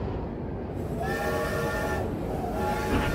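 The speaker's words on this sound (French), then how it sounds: "15h20, la locomotive démarre et Hachi" A locomotive pulling a passenger train sets off from a station, a steady rolling rumble with tonal squeals rising from the wheels and a faint whistle-like tone, heard fairly loud without speech.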